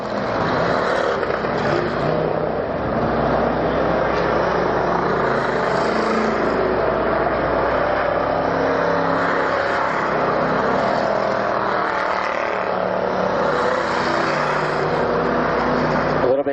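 Stock cars in a 150-lap championship enduro at Orange County Speedway roar continuously as a pack, a dense sustained engine drone swelling and easing as cars pass, with a commentator's voice faintly under the noise.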